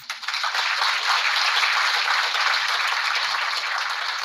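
Audience applause welcoming a performer on stage, a steady, dense wash of clapping from a crowd that holds even throughout with no voices above it.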